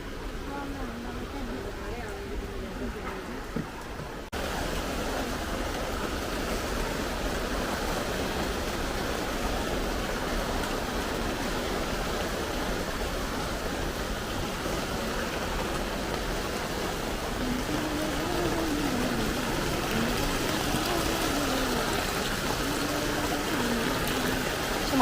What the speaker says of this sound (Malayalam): മഴയ്ക്ക് വലിയ ശക്തിയൊന്നുമില്ല.